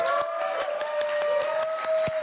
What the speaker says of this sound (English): Another round of applause for Samsung.